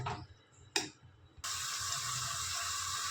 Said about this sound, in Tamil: பாருங்கள், நம்ம தண்ணி ஊற்றிட்டோங்க.